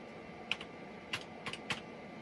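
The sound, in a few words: typing on a Compaq computer keyboard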